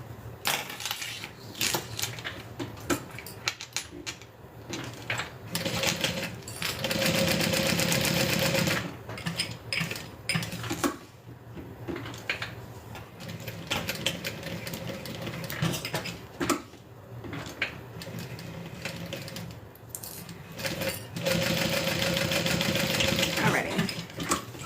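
Sewing machine stitching through vinyl and metal hardware on a backpack, bursts of rapid mechanical chattering that stop and start over a long stretch, close by, with occasional handling sounds and brief talk between runs.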